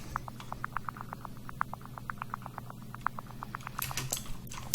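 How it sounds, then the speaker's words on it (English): A deep house percussion loop with heavy reverb: quick, evenly spaced light clicks and taps patter steadily over a low humming bed, with a brighter cluster of hits near the end. "just some little percussion loop is added"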